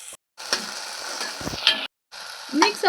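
Vegetables frying in a pan and being stirred and mixed, a close sizzle with scraping spatula strokes and clinks, broken by two brief silent cuts.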